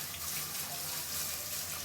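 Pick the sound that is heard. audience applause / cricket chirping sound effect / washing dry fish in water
washing dry fish in water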